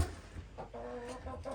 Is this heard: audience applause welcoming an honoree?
no